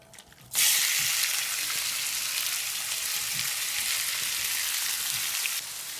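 Meat dropped into a hot pan with mango base, orange juice, cream, mushrooms and balsamic vinegar bursts into a loud, steady sizzle after a brief clatter, hissing evenly for several seconds before easing slightly at the end.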